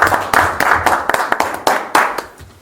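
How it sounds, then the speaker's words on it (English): Council meeting attendees give a short round of applause near the close of a city council meeting, a burst of close hand clapping with uneven, overlapping claps. "yes, a round of applause."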